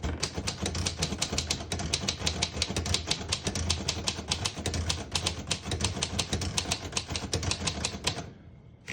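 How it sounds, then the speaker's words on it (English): A 1937 Royal O Model portable typewriter types a sentence in red ribbon, with rapid, close, crisp keystrokes clacking in an uneven continuous rhythm that stops near the end. "I'll type a sentence in red on the next line"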